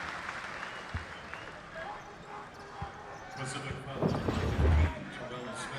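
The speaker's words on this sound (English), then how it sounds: "the crowd loves the effort from Quincy Pondexter" A basketball arena crowd cheers and applauds during a college men's game, swelling into louder applause toward the end beneath steady commentary from broadcasters.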